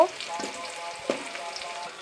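Dried chillies, chopped onion and whole garlic fry in hot oil for a duck curry, a soft close sizzle with a couple of sharp clatters from stirring.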